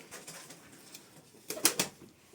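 Püskürenkli pigeons from the Diyarbakır region coo softly in a few short, low bursts, with a louder cluster of calls near the end and faint background noise throughout.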